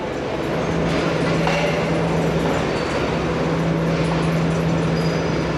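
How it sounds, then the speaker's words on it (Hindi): The Karakoram Express slowly pulls out of Lahore Junction, heard from inside a carriage as a steady close rumble with a low droning hum and faint wheel noise, no voices over it. "आहिस्ता आहिस्ता लाहौर जंक्शन से रवाना होते हुए"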